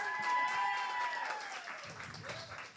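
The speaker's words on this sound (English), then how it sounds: "Everybody, clap for Bernicia." An audience at a comedy club claps and cheers for a woman called up from the crowd, with moderate applause mixed with voices and music.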